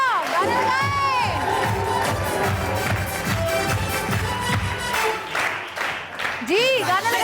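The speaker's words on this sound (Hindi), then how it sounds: "आ जाए टीम नंबर 1 के लिए बहुत सारी तालियां" Crowd cheering, shouting and clapping for team number 1 at a televised entertainment show, loud and continuous, with excited voices and music mixed into the noise.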